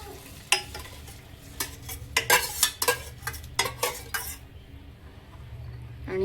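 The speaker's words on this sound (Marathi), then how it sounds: "आता ह्या स्टेजला आपण त्याच्यामध्ये हे मटकी शिजवलेलं पाणी ओतून" A metal spoon scrapes and clinks rhythmically through sizzling oil in a pan as cooked matki water goes in for misal, a dozen quick stirring strokes over a steady fry, then the sizzle settling.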